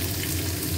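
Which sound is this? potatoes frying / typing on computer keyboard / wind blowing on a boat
potatoes frying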